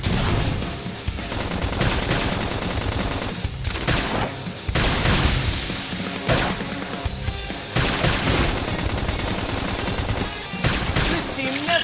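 Dense bursts of rapid gunfire fill a Xenoblade Chronicles X battle, loud, close machine-gun volleys broken by short pauses, with game voices shouting commands over the shooting.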